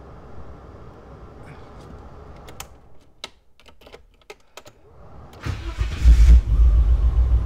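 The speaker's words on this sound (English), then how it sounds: "We're going to start the car" A BMW E30 found abandoned in a forest is cranked: a few sharp clicks and rattles in near-quiet, then a sudden loud, close, rough mechanical rumble from the engine bay.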